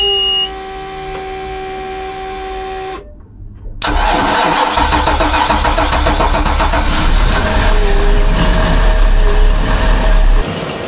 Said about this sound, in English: but the engine did start